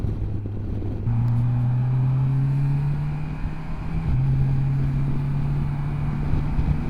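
A Kawasaki Versys 1100 SE motorcycle cruises at high speed on a German Autobahn, its engine a steady, close drone that steps in pitch a couple of times over a constant rush of wind.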